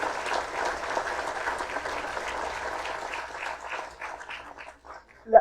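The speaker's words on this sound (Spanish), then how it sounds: "yo les pido un fuerte aplauso" An audience at a forum on electricity reform claps steadily at moderate distance, fairly soft, with the clapping thinning and tapering off toward the end.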